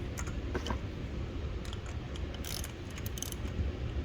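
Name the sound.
3/8 ratchet tightening spark plug, 2018 Honda Accord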